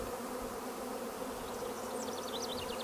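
A honey bee swarm clustering in one spot hums in a dense, steady drone, with individual bees zipping past close by in short high whines over the continuous buzz.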